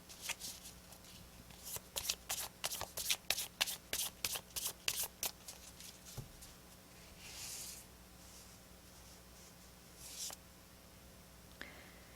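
Tarot cards are shuffled by hand in a quick run of crisp riffling snaps, then a card is drawn with a soft slide and a few faint paper rustles, close up and quiet, with no talking.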